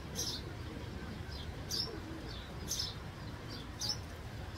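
Pigeons of a named racing bloodline calling faintly, soft repeated short chirps and coos in a quiet room with low background noise.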